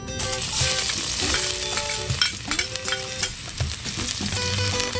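Garlic fries in a pan at an outdoor countryside kitchen in the Philippines, giving a loud, continuous crackling sizzle with quick metallic clinks from stirring, close to the microphone.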